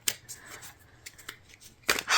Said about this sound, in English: As I'm shuffling out your cards,